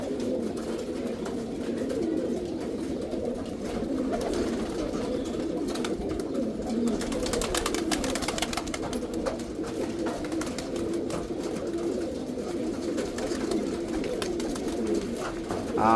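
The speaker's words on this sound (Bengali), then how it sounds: "আরও বেশ কিছু কবুতর কিন্তু নিচে নামছে ওর দেখা দেখি গোসলের জন্য" Soft, continuous low cooing of several pigeons overlapping in a steady murmur, close by, with no talk.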